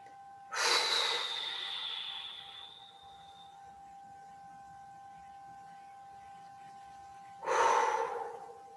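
Slow, audible breaths during seated qigong self-massage: a long breathy exhale near the start and another shorter one near the end, over a faint steady tone.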